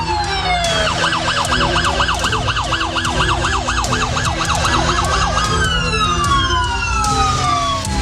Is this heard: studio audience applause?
no